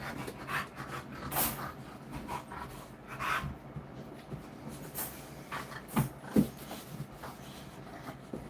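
A dog pants in quick, soft, breathy bursts nearby, mixed with faint rubbing and shuffling noises in a quiet indoor room.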